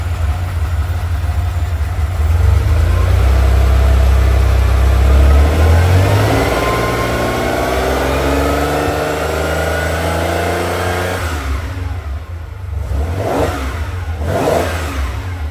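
A 1979 Ferrari 512 Boxer with four triple Weber carburetors fires up and settles into a loud, close idle, then is blipped through several sharp revs near the end, with no talking over it.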